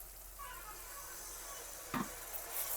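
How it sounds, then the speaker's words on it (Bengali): Spice paste of cumin, coriander, chili powder and turmeric with a little water frying in a pan during a small-fish curry, a steady soft sizzle throughout with a brief louder stir or scrape near the end. "মশলাটা ভালো করে কষিয়ে নেব।"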